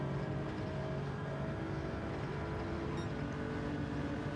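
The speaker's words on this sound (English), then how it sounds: "Yes, you can hear it. Beautiful sounding car." A Lexus RC F GT3 race car in Gran Turismo 7 drones with a steady, continuous engine note at Lago Maggiore, loud and sustained without any talk.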